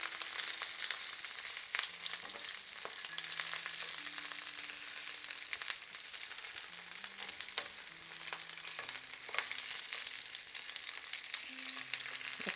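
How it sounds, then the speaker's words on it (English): A stuffed tomato fries on its side in a pan over a low gas flame, giving a steady, soft sizzle and crackle with occasional faint clinks of a fork turning it, and no talking. "Fry it on its side."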